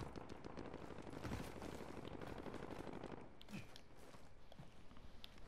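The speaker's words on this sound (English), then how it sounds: "Shots to this side as well." Rapid gunfire in a Call of Duty Warzone trios match, dense bursts of shots and clatter filling the first three seconds, then thinner scattered shots and footsteps toward the end, loud and continuous without speech.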